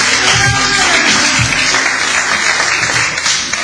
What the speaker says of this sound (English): All right, one more round of applause for your lovely MC.